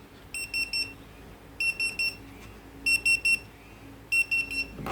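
A TD157s restaurant pager rings on and on in repeating bursts of high electronic beeps, four groups of rapid tones separated by short pauses, fairly faint over a quiet room.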